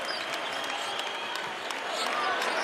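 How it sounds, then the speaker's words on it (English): Home crowd at a UConn Huskies men's college basketball game against Butler roars in the arena, a continuous loud wash of cheering and applause that swells slightly toward the end. "Here comes the crowd trying to push UConn to a win here."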